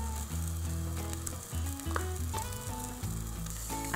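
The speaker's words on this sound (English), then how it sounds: "Now I'm bringing it to a simmer, and then with a wooden spoon, just scrape up all of those juices from the bottom." Mushroom and red onion pie filling with brandy bubbles and sizzles steadily in a pan, a close, continuous frying hiss with occasional spoon scrapes and stirring clinks.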